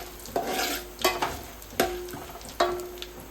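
Whole spices such as cinnamon, bay leaf, cumin and pepper are stirred in hot ghee and vegetable oil for a Kerala-style beef biryani. A spoon scrapes the pan in four distinct strokes over a soft, steady sizzle, and no one speaks.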